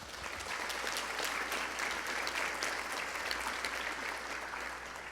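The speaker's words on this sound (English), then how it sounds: "And I think that deserves a huge applause." An audience at a college convocation applauds, a steady wash of many hands clapping that holds evenly throughout and tapers slightly at the close.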